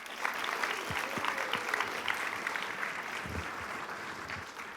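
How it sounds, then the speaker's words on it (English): Audience applause fills the room at the opening of a business school pitch competition event, a sustained roll of many hands clapping at moderate distance, with faint voices and a few whoops mixed in. "Give yourselves a big round of applause"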